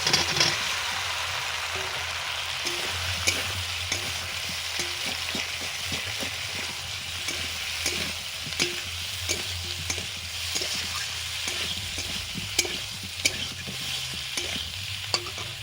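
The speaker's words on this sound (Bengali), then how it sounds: "এবারে আমি ভেজে রাখা আলু আর পটল দিয়ে দিচ্ছি।" Fried potatoes and pointed gourd cook in a spice masala with a steady close sizzle, interrupted by repeated scraping and knocking of a stirring spoon against the pan.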